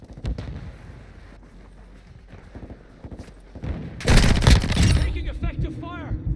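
Gunfire in Call of Duty Modern Warfare 2 on the Shoot House map, scattered shots building to a loud burst of rapid fire and blasts, with game voice lines over it.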